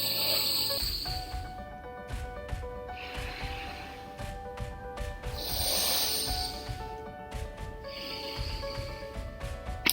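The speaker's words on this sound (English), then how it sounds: "Cover the other nostril and exhale through the other side." Alternate nostril breathing, slow hissing inhales and exhales through one nostril at a time, close and soft, in several drawn-out cycles with quiet pauses between.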